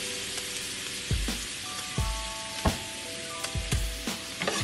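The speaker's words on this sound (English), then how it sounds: "And we're gonna put the shrimp right back in." Shrimp sizzle loudly in a pan of scampi-style sauce, a steady frying hiss broken by several sharp clinks and scrapes of a utensil against the pan.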